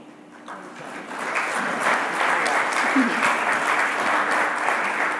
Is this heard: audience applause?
yes